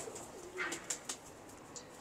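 A pigeon gives a soft, faint coo close by, followed by a few brief higher chirps against a quiet hissing background.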